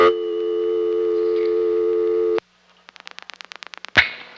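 A steady telephone line tone on the Annapolis exchange hums loudly after 0 is dialed, then cuts to silence before a rapid train of short clicks and tones, ending in a harsh burst of line noise.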